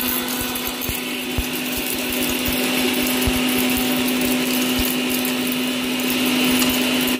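Electric mixer grinder whirring steadily at close range, blending onions, poppy seeds, cumin, mustard seeds, cinnamon and cloves into a paste, with a constant motor hum and rattling blades throughout, no voices.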